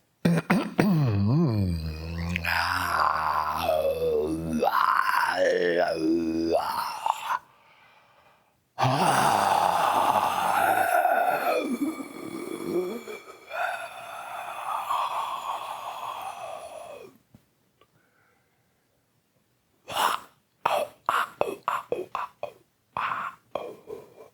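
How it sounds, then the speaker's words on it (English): A group of people let out yawns one after another, with long drawn breaths, sighs and voiced groans, then a pause, and a final run of short, sharp breathy sounds close to the microphone. "get all the yawns out."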